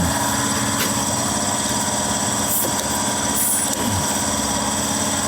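A farm tractor engine runs steadily at close range and stays loud throughout, with a constant mechanical drone and rattle and no speech.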